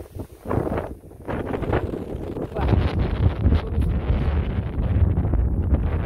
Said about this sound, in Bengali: বাবারে বাতাস